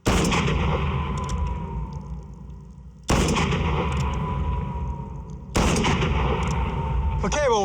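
Three loud, close 1873 Colt Peacemaker revolver shots fired at a stagecoach target, each a sharp blast with a long ringing decay, spaced a few seconds apart.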